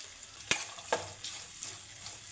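Ginger, cauliflower, onion and green chilli sautéing in a pan for idli upma: a steady close sizzle with two sharp stirring scrapes early on, no voices.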